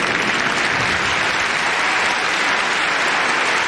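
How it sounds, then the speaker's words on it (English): Tennis fans in Madison Square Garden applaud steadily at the 1996 Chase Championships ladies singles final, a dense, close, unbroken wash of clapping with no voices. "An appreciative crowd is always on hand in the garden."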